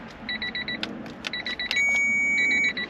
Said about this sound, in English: close the door, get rid of the beeping